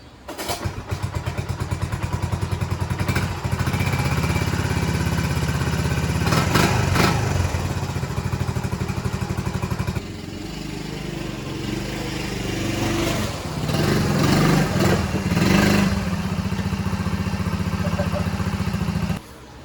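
A restored three-wheeler ATV engine chugs and buzzes while being ridden, with a rough, steady small-engine drone that dips and surges with the throttle and carries occasional clatter and thumps.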